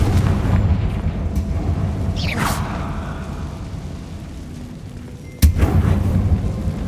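Confringo blasting spell from Hogwarts Legacy, a rumbling game explosion with a rising whoosh midway and a sharp loud burst near the end over steady low background rumble.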